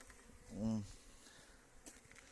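A single close honey bee buzz swells up and fades within about a second, passing near, over faint outdoor apiary background in March.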